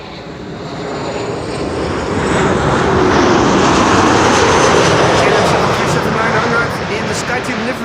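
An airliner in SkyTeam livery, arriving from Rome, lands on Runway 06 (Kaagbaan) at Amsterdam Schiphol with a loud, broad engine roar that swells to a peak and then eases slightly, with a voice over it.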